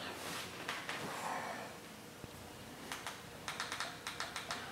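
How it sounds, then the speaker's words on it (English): Typing on a mini keyboard, heard as a quiet run of light key clicks, sparse at first and then a quicker cluster of taps toward the end, set over a soft background hiss. "I use my mini keyboard. That works pretty doggone good for us typing everything in there."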